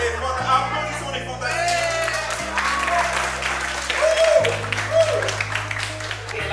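An audience applauds and cheers for a group at an event, clapping and whoops mixing with a steady musical backing and some talk.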